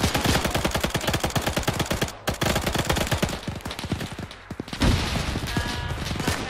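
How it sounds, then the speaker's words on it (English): Dense bursts of automatic gunfire in the video game Arma, set in a D-Day battle for a town, rapid loud repeated shots with brief pauses and no talk. "Covering fire."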